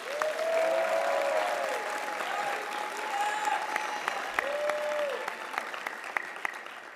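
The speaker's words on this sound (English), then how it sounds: "Please give them another round of applause." A crowd at a Black celebratory graduation gives a sustained round of applause for the event planning committee, steady dense clapping with some cheering tones and a few sharp individual claps as it tapers off.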